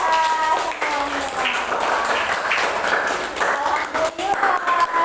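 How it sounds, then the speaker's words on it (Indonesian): A primary school class of children clapping together in a classroom, a rhythmic burst of hand claps mixed with a teacher's voice speaking over it. "Tepuk hebat untuk kelas 3A semuanya."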